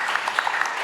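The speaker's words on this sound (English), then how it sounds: "let's have a round of applause for Cancer Center" Applause from an audience at a startup pitch competition finals, a steady sustained wash of clapping, fairly distant and even throughout.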